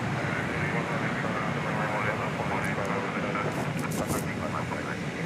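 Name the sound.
jet aircraft at DFW airport at night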